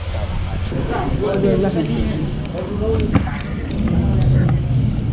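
Boat motor and wind rumbling steadily as a tour boat sets off on a half-day trip in Thailand toward Maya Bay and Pileh Lagoon, with people chatting over the constant engine and wind noise.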